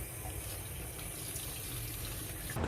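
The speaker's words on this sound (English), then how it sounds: "Let me give it some water and also to fill up the reservoir." Water pours steadily into the reservoir of a potted Epipremnum pinnatum 'Marble King' plant, a continuous close splashing trickle that runs unbroken with no talking.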